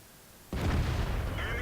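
A single tank gun shot from the T32 in World of Tanks: quiet background, then one abrupt, powerful blast followed by a sustained echoing roar that keeps going to the end.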